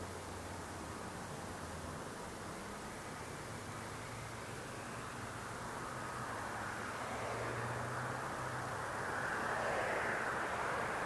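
A Southwest airliner bound for Denver takes off from Las Vegas Harry Reid International Airport, a steady broad engine roar rising gradually in loudness and swelling toward the end, heard from a distance with no talk.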